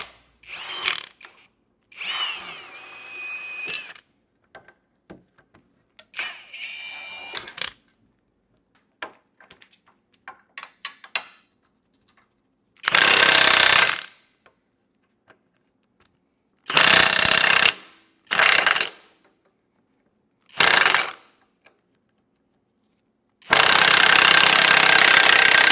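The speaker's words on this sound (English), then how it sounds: "go ahead and unbolt the bottom bolt from the sway bar link" A power tool, likely an impact wrench, unbolts the lower sway bar link bolt on a Jeep JK, firing in several loud, harsh bursts of rattling hammering, the last one longest, between quiet clinks of tools and parts.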